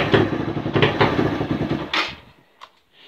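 A Suzuki 125 motorcycle engine runs loud and close for about two seconds, with a rough, throbbing roar, then cuts out and fades into near silence, followed by a brief faint click.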